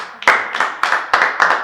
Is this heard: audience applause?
yes